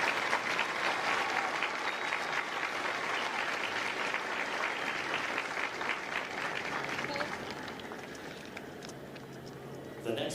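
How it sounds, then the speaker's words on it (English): Steady audience applause at a Marine Corps recruit graduation ceremony at MCRD San Diego, honoring the Echo Company staff. The broad crowd clapping holds for several seconds, then gradually fades as a few voices remain. "Please join me in a round of applause for the company staff of Echo Company"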